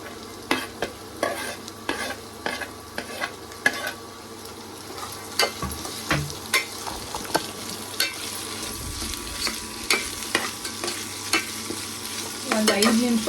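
Vegetables for pulao are stirred and fried in a pan on an induction stove, a spoon scraping and clacking in an irregular rhythm over a continuous sizzle, close and fairly loud.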